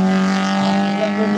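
A race car brakes at the Gavray 2016 hill climb, its loud engine note a layered harmonic whine lasting only a moment, with no voices.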